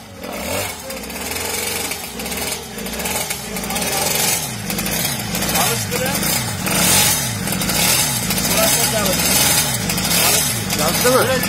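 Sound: twin-cylinder Mobylette moped engine starting and running

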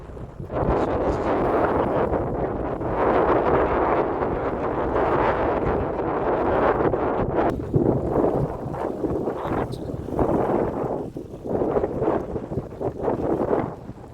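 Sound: wind blowing at a seaside harbor

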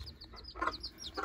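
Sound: chicken and chicks

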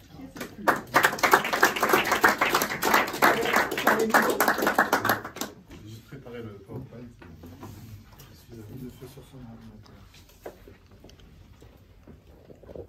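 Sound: audience applause for a speaker

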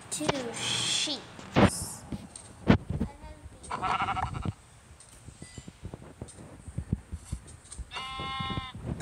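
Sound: sheep bleating in a video game

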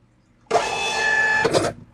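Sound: Xprinter printer printing a test page

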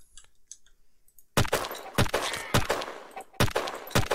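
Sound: gunshots in video game Shell Shockers

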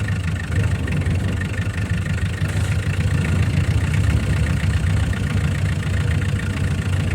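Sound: tractor engine idling

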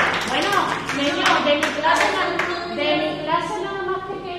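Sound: applause, children clapping

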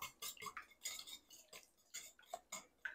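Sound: whisking eggs and milk together in a bowl

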